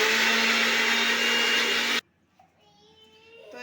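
Mixer grinder grinding garlic and green chilli into a paste without water, a loud whirring motor that cuts off abruptly halfway, followed by near silence.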